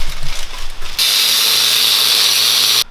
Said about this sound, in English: I just cut a 7 1/4 piece of 1-inch square tubing